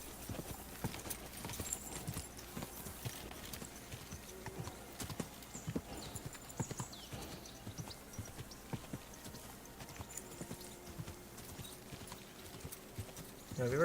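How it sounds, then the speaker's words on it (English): Horse hooves clip-clop steadily at close range in the medieval game Kingdom Come Deliverance, with the mount's heavy breathing and a brief whinny mixed in over a low ambient bed. "My horse does his insanity breathing here."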